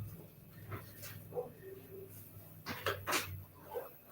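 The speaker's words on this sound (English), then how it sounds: "Somebody dog out there going crazy." A dog barks and yips excitedly outside, several scattered barks at a distance, muffled indoors with some household clatter and faint room noise.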